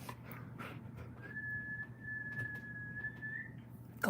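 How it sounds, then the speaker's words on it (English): A person whistles one long, steady, sustained note to call a dog, holding the tone for a couple of seconds over quiet indoor background noise. "can you whistle?"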